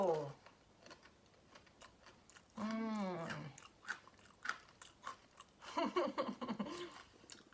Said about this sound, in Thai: จะยินเสียงไหมคะกรอบเนาะ สุดยอดในความกรอบเลยค่ะ